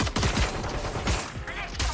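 Gunfire in the tactical shooter game Valorant: several rapid bursts of shots in quick succession, fairly quiet in the mix, with faint background game sounds.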